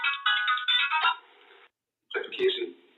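A phone ringtone plays a loud, bright electronic melody in short repeating bursts, drops to a quieter tail, stops briefly, then resumes. A person speaks over the ringing.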